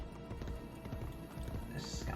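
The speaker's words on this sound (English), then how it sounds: "I do like riding our horse around, especially since I'll probably do less of it in this game" Horse hooves clopping steadily at a run while riding in Assassin's Creed: Brotherhood, outside the city of Rome, a busy rhythmic patter of near hoofbeats over low game ambience.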